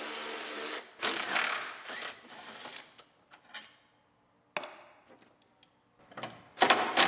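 Bolt on an Acura RDX headlight being worked loose with a hand ratchet, giving bursts of quick clicking and metallic tool noise that stop and start, close by with no talk.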